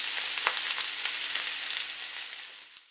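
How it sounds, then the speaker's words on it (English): Sausages frying in a pan, a close continuous crackling sizzle with small pops that slowly fades over a few seconds. "The sausages are getting cooked."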